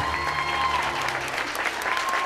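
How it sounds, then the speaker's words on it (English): A crowd at a Sweet 16 party claps steadily and enthusiastically, a dense wash of applause filling the room, with a faint tone lingering in the background. "a nice thunderous round of applause"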